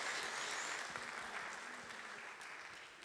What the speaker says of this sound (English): Let's give a round of applause to table number 1.